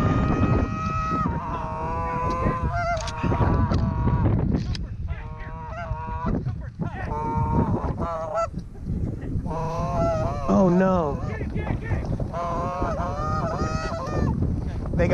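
Canada geese honking over an Iowa cornfield during an afternoon hunt, a loud, continuous chorus of overlapping honks from several birds with brief human voices mixed in.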